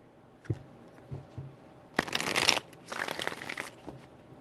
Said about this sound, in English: 3 shuffles.